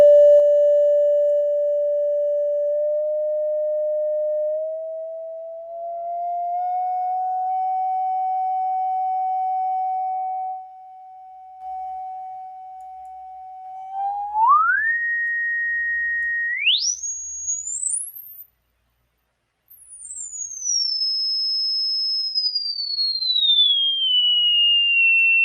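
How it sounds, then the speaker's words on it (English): Online tone generator producing a pure sine tone starting near 585 hertz, held steady and then swept upward in steps to a very high pitch, briefly cutting out, then gliding back down; clean, steady and alone. "we have an online tone generator with a frequency of the 585 hertz"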